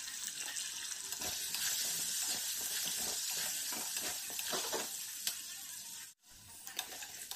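Mutton pieces sizzling and being stirred in a pan with salt and turmeric while frying for biryani, a steady broadband crackle with scraping stir strokes throughout.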